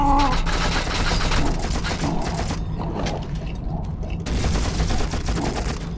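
Bombs go off in the video game You Are Empty, a dense stretch of booming blasts and crackling bursts layered over a steady battle din. The noise barely lets up, with a brief dip in the middle.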